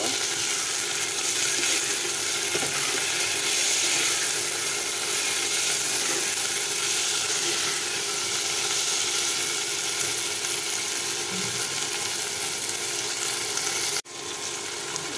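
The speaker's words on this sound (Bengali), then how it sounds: "তাড়াতাড়ি টমেটোটা সিদ্ধ হয়ে যাবে। আবার নেড়ে দিব।" Tomatoes fry in a pan with salt added, a loud steady hiss of sizzling throughout with faint stirring scrapes, ending in a brief sharp knock.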